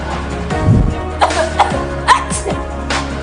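Sneezes and coughs close to the microphone, demonstrated into a tissue, several short sharp bursts spread over a few seconds with a low steady hum beneath.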